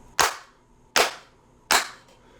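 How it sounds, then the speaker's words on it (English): Three sharp hand claps spaced about three-quarters of a second apart, each a loud crisp snap with a quick decay, close by in a quiet room before an unboxing. "we're just gonna clap, clap"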